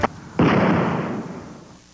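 A single firework goes off with a sharp, loud bang, and its roar and crackle trail off over about a second and a half. A faint earlier pop comes before it, and no voices are heard.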